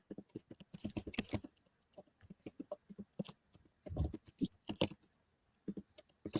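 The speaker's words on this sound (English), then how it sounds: "sorry, I'm just typing in my chat" Fingers typing on a computer keyboard in close, uneven bursts of sharp key clicks and clacks, with brief pauses between flurries and no talking.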